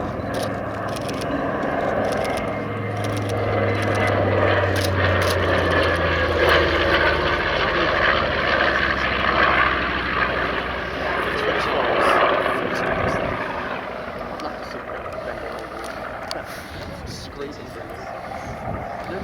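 Piston engines and propellers of a B-25 Mitchell medium bomber drone loudly and steadily as it flies past at an airshow, a low, sustained roar swelling and fading over the crowd, with voices heard beneath.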